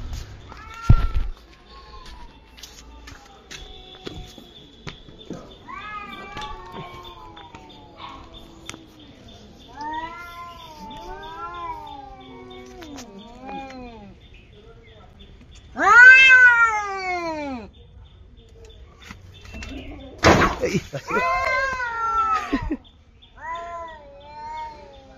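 A cat meows repeatedly, loud and close, in a series of drawn-out, rising and falling cries with short pauses between them, the loudest wails coming near the end.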